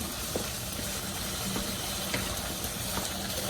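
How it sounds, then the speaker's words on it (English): A pot of sweet potato coconut soup boiling on the stove, giving a soft continuous hiss and bubble with a few faint pops and clicks, heard close and alone. "And now that it's all boiling nicely"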